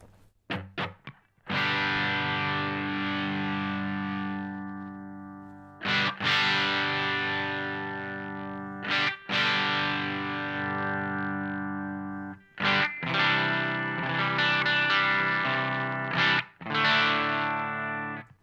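An electric guitar plays through a Boss BD-2 Blues Driver overdrive pedal at lower gain, giving mildly crunchy sustained chords and notes, each ringing out for a few seconds before the next strum.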